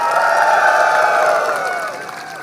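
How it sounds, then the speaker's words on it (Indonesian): A crowd at a Dayak customary gathering applauds and cheers, with a loud burst of clapping and voices that slowly fades, accompanied by a sustained tonal sound like music or a held chant. "Tepuk tangan."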